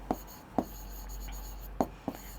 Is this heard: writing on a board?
yes